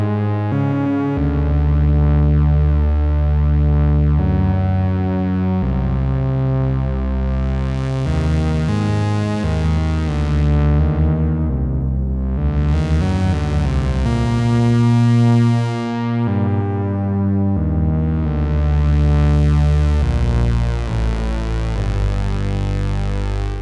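Arturia MatrixBrute analog synthesizer playing a sustained, harmonically rich sequence with delay echoes trailing each phrase, loud and continuous throughout with filter sweeps opening and closing, no voices.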